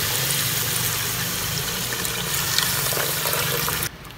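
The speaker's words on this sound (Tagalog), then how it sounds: "Lagyan ito ng tubig." Water pouring into a cooking pot of seasoned beef skin for balbacua, a steady loud splashing rush that cuts off abruptly near the end.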